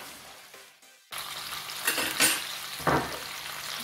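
Piri piri chicken frying in a pan with a steady broadband sizzle that swells in a few louder bursts, close and continuous, with no talking.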